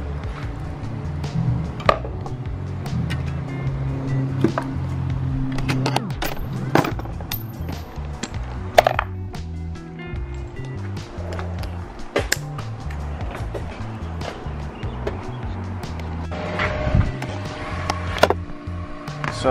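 Hand tools tightening M8 flange nuts on a clutch master cylinder on a first-generation Toyota Tacoma during a 5-speed swap: repeated close metallic clicks, ratcheting and clanks over a steady low hum, with no talking.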